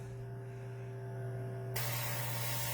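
An airbrush spraying speed paint onto a miniature starts abruptly partway through as a steady broad hiss, after a low electrical hum.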